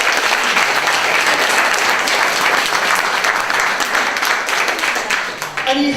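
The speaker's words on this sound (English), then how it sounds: "let's give a round of applause to Big Red" Audience applause at an annual general meeting, a dense, steady roar of many hands clapping that holds loud for about five seconds before thinning out toward the end.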